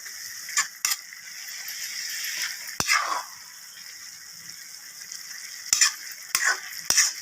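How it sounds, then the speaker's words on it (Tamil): Grated coconut frying in a pan for lemon semiya, a steady soft sizzle with several sharp scraping stirs of a spatula against the pan, close and alone without voices. "தேங்காயை போட்டு ஒரு மூணு நிமிஷம் தேங்காய் வேகணும்"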